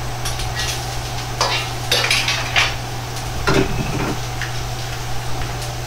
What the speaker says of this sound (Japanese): 生姜を炒めます。